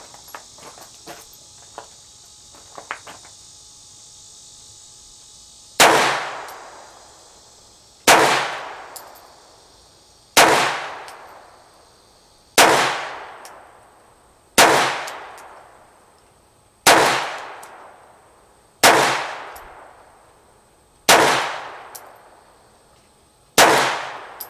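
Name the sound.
handgun shots fired weak hand only at 5 yards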